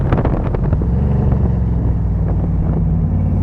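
A Shelby Ram Cobra pickup accelerates through the gears with a loud, close, deep engine roar. Revs climb at first, then hold steady under wind buffeting.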